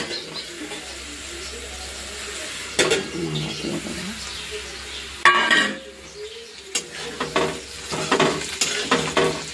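Potatoes sizzle steadily in a wok while a spatula scrapes and stirs, with intermittent metallic clanks of the pan.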